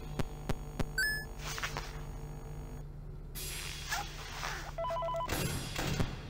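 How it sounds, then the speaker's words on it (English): A phone call rings in the Ultimate Custom Night video game, repeated electronic ringing pulses over a low steady hum, broken by a brief gap and other game beeps, with no talk. "closing the door to mute a phone call"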